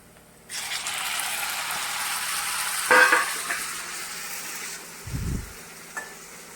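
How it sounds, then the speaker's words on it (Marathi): Chopped tomatoes drop into well-fried red onion in a hot pan, giving a steady close sizzle that flares briefly as they land, followed by a soft stir and a short low thump. "आता आपण याच्यात टमाटे सोडू."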